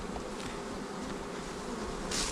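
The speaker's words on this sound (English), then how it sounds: "Get the bees out of the way a bit right here." Dense, close buzzing of many honeybees on a hive frame, steady and droning, with no voices.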